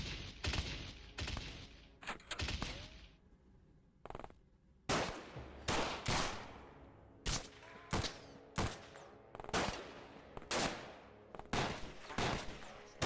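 Aliens fire on soldiers in the game Xcom at night, rapid bursts of gunfire cracking out in clustered volleys separated by short pauses, loud and sharp throughout.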